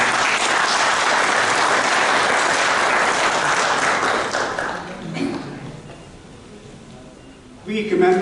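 Audience applause at a Kashmir Solidarity Day ceremony at the Embassy of Pakistan in Washington, D.C.: loud sustained clapping that fades to quiet after a few seconds, with a brief burst of sound near the end.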